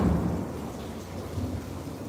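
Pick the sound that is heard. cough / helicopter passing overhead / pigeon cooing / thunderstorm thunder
thunderstorm thunder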